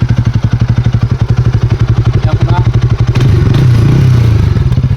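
A Pulsar NS 200 motorcycle's loud modified exhaust thumps in a rapid, even idle beat, then the engine revs up briefly into a deeper roar before settling back.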